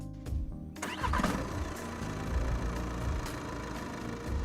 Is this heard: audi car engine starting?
yes